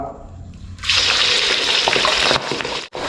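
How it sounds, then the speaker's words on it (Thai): Shrimp and red pork dropped into hot oil in a wok for a quick stir-fry: a quiet moment, then a loud, sustained hiss and sizzle that dips briefly near the end before surging again. "ให้น้ำมันร้อนนิดนึงนะฮะท่านผู้ชมเราจะฉา กุ้งกับหมูแดงหรือว่าล่าเหยานี่นะฮะ แล้วก็ลงไปเลยครับ"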